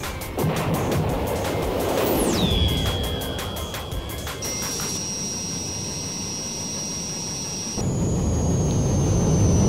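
A military jet engine in a 1971 India–Pakistan war setting roars loudly and steadily, with a falling whine early on, then a sustained high-pitched tone over a broad rushing noise that surges again near the end.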